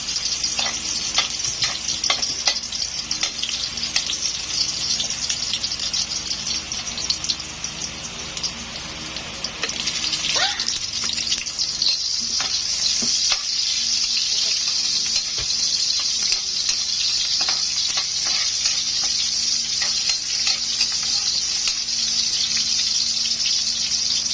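Garlic, onion and ginger sauté in a pan for a Bicol stingray dish, a continuous close frying hiss broken by frequent scraping stirs and clicks of the spatula, with one louder clatter midway and no talking.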